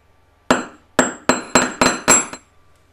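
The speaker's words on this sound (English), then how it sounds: "And I just want to hammer over the whole link." Six or seven close, crisp metallic taps from a flat-faced hammer flattening a wire chain link for jewellery, ringing briefly against a hard surface, spaced unevenly and quickening slightly.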